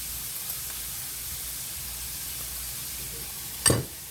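Olive oil sizzling in a skillet with cooked hamburger meat gives a steady, even hiss throughout, with one brief sharp crackle or clink near the end.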